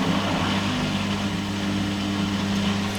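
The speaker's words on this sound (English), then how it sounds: "now this one, Delicate, seems to be testing the drain pump," A steady, low mechanical hum with a buzzing motor tone from an EWD1477 washer dryer's drain pump, tested in service mode, runs continuously at a constant level, close by, with no voices.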